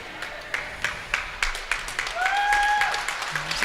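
A crowd at a high school girls basketball game in Cadillac claps in distinct rhythmic bursts, then swells into broader applause, with a whistle-like tone and a short horn blast near the end.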